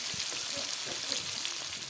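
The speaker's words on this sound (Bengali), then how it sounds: "এখানে আমি কড়ার মধ্যে মাছটাও তেলে দিয়ে দিলাম" Tilapia fish frying in hot oil in a wok, giving a steady, dense sizzle with faint crackles and spatter throughout, close and alone without talk.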